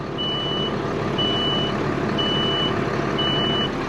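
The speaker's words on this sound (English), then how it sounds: "This is just beeping because we're not moving." A loud, steady reversing alarm on a fertilizer spreader beeps four times at an even pace over a constant engine rumble.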